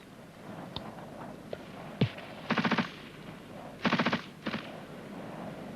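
Machine gun covering fire during an infantry section attack, two short rapid bursts plus a brief pair of shots and a few scattered single reports, moderately close against a quiet background.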